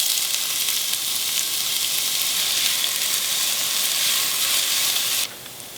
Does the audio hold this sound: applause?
no